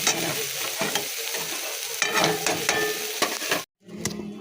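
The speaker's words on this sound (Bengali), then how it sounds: "আদাটা নুন হলুদ দিয়ে দিয়েছি আর অল্প করে একদম ঝরঝরে ভাজা হবে" Ginger, salt and turmeric stir-fried in a pan, with a steady close sizzle and repeated scraping of a spatula across the metal, broken by a brief silence before the frying resumes.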